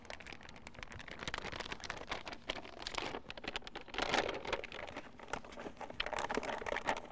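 A plastic sauce bag for homemade red sauce is unfolded and handled up close, giving a steady stream of crinkly, crackling rustles that swell in bursts without any talking.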